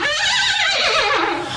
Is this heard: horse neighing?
yes